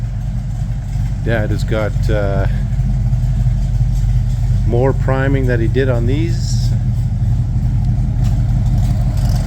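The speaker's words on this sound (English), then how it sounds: "you guys can hear the sounds of the engine in the back" A low tractor engine rumbles and idles steadily throughout in a shop while someone talks briefly over it.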